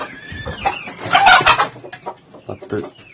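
A small flock of about fourteen native hens and roosters clucks and squawks nearby in busy, overlapping calls, with one louder squabbling burst in the middle and quieter clucks trailing after, and no one talking.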